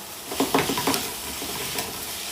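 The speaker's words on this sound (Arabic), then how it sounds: "ونكمل تشويح الفراخ" Chicken sautéing in a pan while being stirred, short scraping clatters over a steady sizzle, close and fairly quiet, with no talking.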